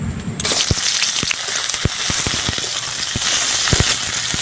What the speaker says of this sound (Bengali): তেল হিট হয়ে গেছে, এবারে দিয়ে দিচ্ছি কুচনো পেঁয়াজ।